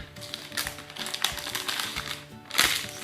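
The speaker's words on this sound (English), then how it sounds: "you just need the scissors and cut where the dotted line is" Scissors snip along the dotted line of a crinkly plastic food-kit packet in a few sharp cuts, close up, with rustling between snips.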